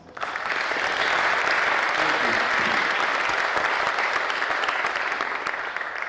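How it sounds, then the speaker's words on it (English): A Texas Wesleyan audience welcomes a speaker with a warm round of applause, dense sustained clapping from a large crowd that swells quickly and holds steady and loud. "please give him a warm Wesleyan round of applause"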